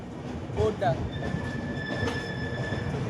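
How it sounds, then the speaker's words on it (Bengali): The Vivek Express pulls out of Visakhapatnam station, its wheels squealing with a sustained high metallic whine over rolling rumble, while a voice speaks briefly near the start. "তো ভাইজাগ স্টেশন থেকে আমাদের ট্রেন ছেড়ে দিল"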